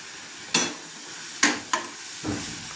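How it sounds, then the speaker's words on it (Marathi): Fenugreek masala with turmeric and red chili powder is stirred in a pan, giving four distinct scraping clatters of spoon on metal over a faint sizzle, close and well spaced. "तर हे मस्त असं परतून घ्यायचं"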